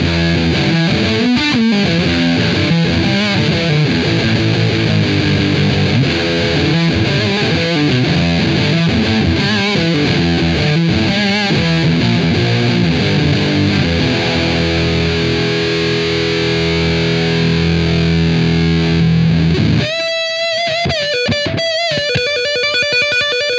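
A distorted electric guitar plays a riff with a slight reverb tail from a Deep Blue reverb pedal, sustained chords and notes ringing out, then a brief change in tone near the end.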